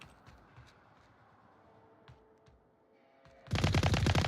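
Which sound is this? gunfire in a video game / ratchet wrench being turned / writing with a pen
gunfire in a video game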